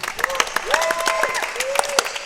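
A short burst of applause during a speedrun marathon event, scattered claps layered with people talking over it.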